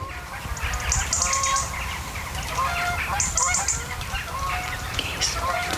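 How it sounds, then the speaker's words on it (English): Canada geese honk repeatedly at a distance during a morning flight, their calls overlapping over a steady outdoor background with some talk nearby. "But I can hear the geese over here now."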